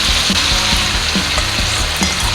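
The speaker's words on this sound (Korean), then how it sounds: "마늘 넣고 소고기 기름에다가 볶아주세요." Thin-sliced beef brisket stir-fries with garlic and sauce in rendered fat, a constant close sizzle cut by regular scraping strokes of a spatula roughly every half second.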